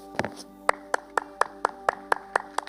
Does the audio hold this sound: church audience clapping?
yes